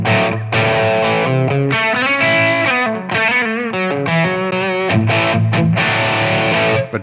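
Loud, sustained distorted electric guitar through a boutique high-gain amp model in TONEX plays chords and riffs with thick saturation and short gaps between phrases.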